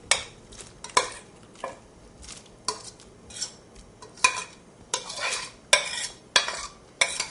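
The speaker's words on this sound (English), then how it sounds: "Just stir that in." Softened leeks, celery, carrots and mushrooms are stirred and scraped into chicken stock for soup, giving repeated close scraping and clinking strokes of a utensil against the pot at an irregular pace, with no talking.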